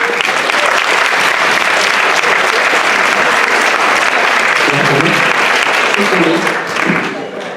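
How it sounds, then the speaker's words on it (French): An audience at a hypnosis show during a Miss Villeurbanne election bursts into loud, sustained applause, and a voice speaks faintly beneath the clapping before it tapers off near the end. "On l'applaudit bien fort"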